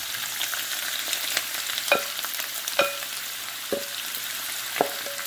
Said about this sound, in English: now we're going to add our onions into this. We want to fry these up till they're light brown